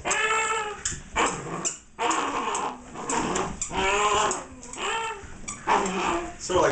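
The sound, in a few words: police K9 puppy whining and yipping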